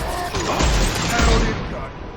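A concussive shot fires in Mass Effect 2: a sharp, heavy blast with a crashing burst that swells briefly and then decays, mixed with a lower, rumbling impact.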